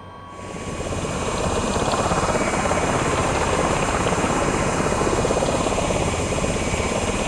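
Engine startup of an Osprey tiltrotor in Microsoft Flight Simulator, a steady, loud, broad turbine and rotor roar that swells in over the first second and then holds constant.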